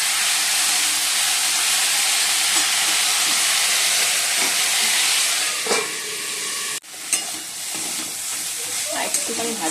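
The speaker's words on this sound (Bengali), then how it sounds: "আর একটুখানি ভাজা হবে।" Potatoes, cauliflower and onion greens fry in a pan with a loud, steady sizzle, broken by occasional stirring scrapes and a brief dip near the end. No one speaks.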